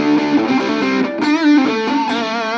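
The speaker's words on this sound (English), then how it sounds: "let's try some distortions and see what you think." A heavily distorted electric guitar through a small Nux, Boss Katana Mini or Blackstar Fly amp rings out hard-rock chords with a gritty, sustained tone, played loud and alone.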